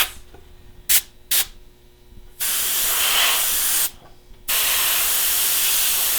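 Spray paint hisses onto a taxidermy deer head: two short puffs, then two long, loud, steady bursts separated by a brief pause, close and alone without talk.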